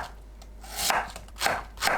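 A knife cuts flat fish cake on a cutting board, heard as three close, brief scraping slices spaced about half a second apart over a faint low hum.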